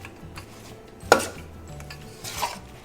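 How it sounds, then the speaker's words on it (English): Stirring melting jaggery in a pan over a low gas flame, low scraping with one sharp clack of a spoon against the metal and a lighter knock later, otherwise quiet and close. "keep stirring it so that the saran won't stick to the pan"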